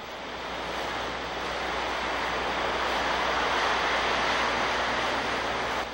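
Ocean surf crashes against the Palos Verdes Peninsula cliffs, a broad continuous roar of breaking waves heard from a distance, steady and fairly loud.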